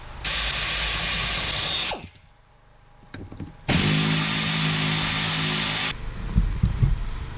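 A power tool spins out car seat bolts in two long, steady whirring bursts of about two seconds each, separated by a quiet gap with small clicks and handling noise, close and loud.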